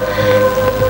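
Rain falling outdoors as a storm gathers, a soft steady wash of drops heard alone, with a faint sustained tonal hum running beneath it.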